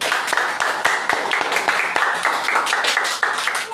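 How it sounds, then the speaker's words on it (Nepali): A church congregation claps together in thanks to God, a dense, steady run of many hands clapping at close range. "एकचोटि सबैजना मिलेर परमेश्वरलाई हामी ताली बजाएर धन्यवाद दिनेछौँ"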